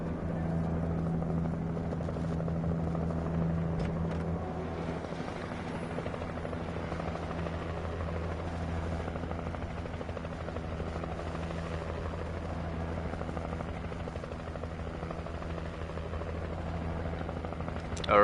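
Steady helicopter rotor and engine drone in the video game Alan Wake Remastered, a continuous low thrumming hum at even level throughout with no voices.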